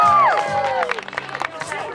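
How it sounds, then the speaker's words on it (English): A crowd at a trolley dash event in Abbeyfeale, Ireland, cheers and whoops loudly with scattered clapping, voices rising in excited shouts over a brief burst of applause. "Give her a round of applause."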